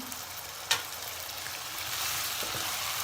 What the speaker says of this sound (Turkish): Pirinçlerim kavruldu. Üzerine yarım su bardağı sıcak su döküyorum.